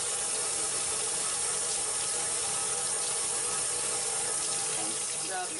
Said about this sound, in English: now I could just hold it under the water